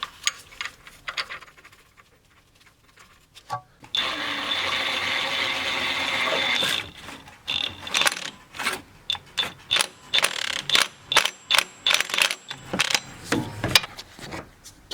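A ratchet wrench tightening a new bolt during a timing belt job on a first-generation Chevrolet Cruze 1.8L. A stretch of whirring mechanism gives way to a run of rapid, loud, close clicking strokes, with no talk.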